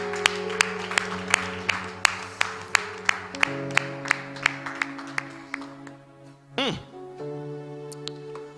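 A church congregation claps in a steady, even rhythm while sustained voices or music hold long tones beneath, with a brief rising vocal sweep near the end.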